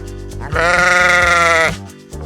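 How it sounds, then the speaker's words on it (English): A sheep lets out one long, loud, wavering bleat lasting about a second, with quieter background sound before and after. "I'm fluent in sheep talk, and yes, that bah meant yes"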